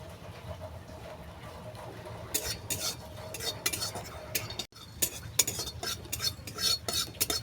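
Whole spices dry-roasting in a pan while being stirred, with a faint low sizzle and a run of metallic scraping and clinking strokes from a spoon in the second half, close and fairly quiet.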